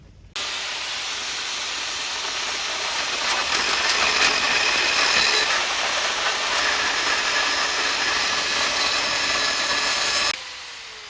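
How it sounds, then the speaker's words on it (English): An angle grinder running off a UDPower S1200 portable power station cuts steel with a steady, loud high-pitched hiss and whine for about ten seconds, starting and stopping abruptly, with no talk. "Let's see if we can cut some steel with this grinder"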